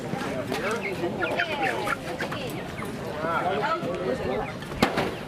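Chickens cluck steadily in a busy flock at a Chicken Drop Bingo event at a Canadian July 4th celebration, with bursts of squawks mixed among them and people talking underneath.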